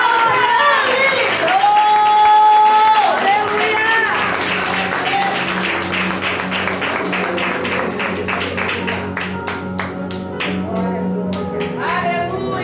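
A church congregation at a women's seminar claps and cheers in praise, the applause building into rapid, crowded clapping over sustained music tones and shouting voices, fairly loud throughout.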